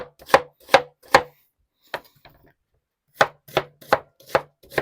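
Onions being cut into half rings on a board, a series of sharp, close knife chops in two bursts with a short pause between, no talk.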